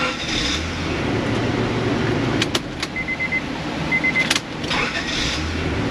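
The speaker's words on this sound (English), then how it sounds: "that's about as good as a 97 Accord's ever started" A 1997 Honda Accord engine being started in an auto repair shop, with a short burst of cranking and catching amid steady rumbling idle noise and a few sharp clicks.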